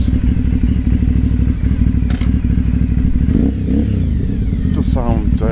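An Aprilia Shiver 750 motorcycle engine rumbles steadily and close, with a brief rev and some clatter as it pulls away.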